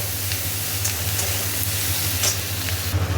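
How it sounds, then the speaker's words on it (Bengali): Chopped capsicum fries in a pan for chilli paneer, a steady close sizzle with faint stirring scrapes over a low hum, no voices. "ক্যাপসিকাম দিয়ে দিয়েছি, এবার একটু ভাজা হোক"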